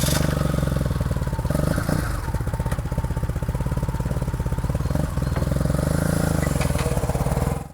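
A motorcycle engine runs steadily at close range, a continuous low rumble with a few brief shifts in pitch and no talking over it.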